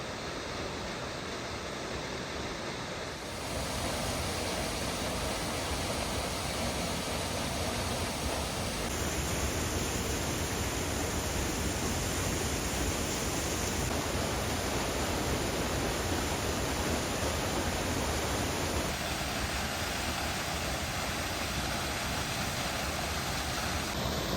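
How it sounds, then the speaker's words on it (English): A cascading waterfall beneath towering limestone cliffs in a scenic park oasis roars as a steady, loud, full rushing wash of water, unbroken for the whole stretch, with slight shifts in tone as the view changes. "this scenic oasis, with its cascading waterfalls and lush surroundings, was a perfect example"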